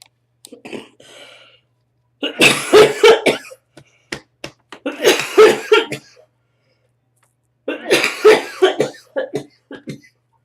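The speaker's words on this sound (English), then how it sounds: "I'm still getting over this whooping cough" Three bouts of harsh, close whooping-cough coughing, each a cluster of rapid hacking bursts, separated by short quiet pauses.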